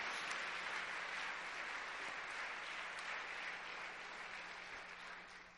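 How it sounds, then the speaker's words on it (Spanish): Church congregation applauding during a sermon, a continuous even wash of many hands clapping at moderate distance, sustained without pause and easing slightly at the close. "Alguien dele un aplauso a Dios, por favor."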